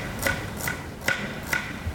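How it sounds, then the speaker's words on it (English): Knife chopping an onion on a cutting board: four sharp, evenly spaced knocks, close and clear over a quiet kitchen background. "make sure cut the onion into half"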